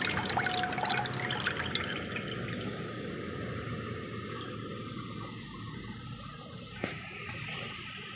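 Tender coconut water poured from a freshly cracked coconut into a vessel for mint juice, a steady close liquid splash with drips and a faint trickle continuing throughout, no talking.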